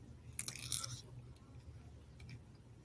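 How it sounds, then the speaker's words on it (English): Teeth bite into a hairy-skinned tropical fruit with the skin still on, making a short, close, soft crunch followed by quiet chewing, with no talking. "I heard you can just take a bite with the skin."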